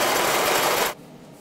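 A drift trike frame is welded with a loud, crackling buzz that holds steady for about a second, then stops abruptly, leaving only faint background noise.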